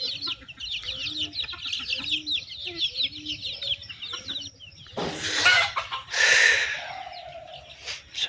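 Chickens cluck in quick, repeated bursts nearby while being caught, then loud rustling and flapping noises break in near the end.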